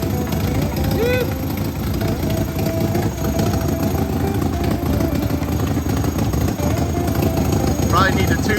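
A Suzuki Samurai with a swapped 1.6-litre 16-valve engine runs loud and steady with its oxygen sensor unplugged, a close, constant rough drone with occasional chirpy squeals.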